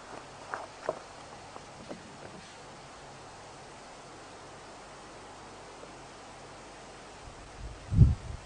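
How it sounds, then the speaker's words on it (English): Wind blows through drying leaves outdoors as a steady, soft hiss, with a few faint rustles early on and a brief low thump near the end. "Wind picking up a little bit now, making a lot of noise"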